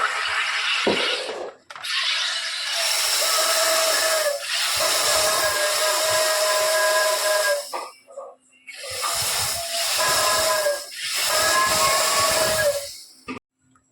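Homemade soda with lemon juice in a Pepsi bottle hisses loudly in several long bursts separated by brief pauses, like carbonated drink being released and poured.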